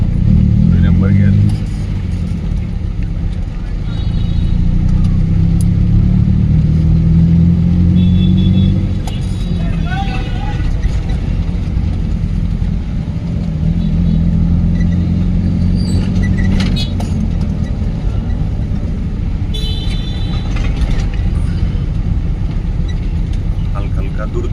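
A car engine pulls steadily in second gear on a driving lesson in Hajiganj, a continuous low rumble lasting throughout, with an instructor's voice talking over it at intervals.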